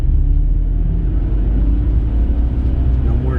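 A 2004 BMW 325xi accelerates hard in second gear on pavement, its engine a loud steady low rumble with rising drone heard from inside the car.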